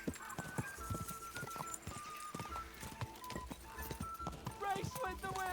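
A horse gallops during a race in the video game Kingdom Come: Deliverance II, quick rhythmic hoofbeats thudding steadily under music and game sounds, with someone talking over it.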